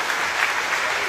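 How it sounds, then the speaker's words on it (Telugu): An audience claps together in a hall, a dense, even burst of applause filling the short stretch at steady loudness with no voices over it. "నా కోసం ఒక క్లాప్ కొడతారు అందరూ."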